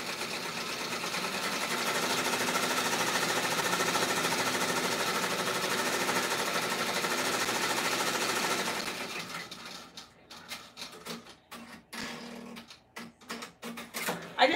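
An embroidery machine stitches satin fill on a sport fishing shirt, a steady loud mechanical chatter that runs for about nine seconds, then stops and gives way to scattered short bursts and clicks.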